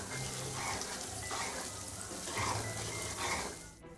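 Green chili pickle being stirred slowly in a pan, a steady close sizzle and frying hiss with soft scraping and stirring sounds that continue for several seconds and never stop.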